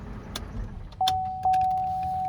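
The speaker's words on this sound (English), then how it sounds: "Let's go ahead and shut the car off." A 2007 Cadillac DTS is switched off with the key: keys jingle in the ignition with a few light clicks, then a steady electronic chime starts and keeps ringing up close.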